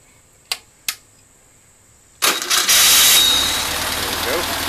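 Air-cooled VW 36hp flat-four engine fitted with a Dietz carburetor cranks over after two sharp clicks, catches and settles into a loud, steady close-up idle.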